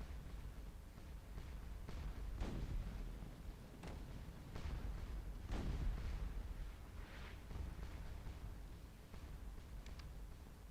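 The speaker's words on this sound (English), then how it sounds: "It's got to be on that left where we're getting hit by canister fire." Canister artillery fire in the Napoleonic battle game Scourge of War: Waterloo, with repeated distant cannon booms and bursts rolling over a constant low battlefield rumble, fairly faint.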